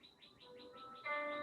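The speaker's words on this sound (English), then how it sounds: "Perhaps you can hear the birds outside my door." Birds chirp outside an open door, a faint run of quick repeated tweets followed by a brighter, louder trilling call, with no voices.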